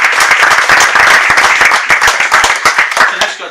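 A conference audience claps loudly and steadily, with dense overlapping handclaps carrying on throughout, close and full.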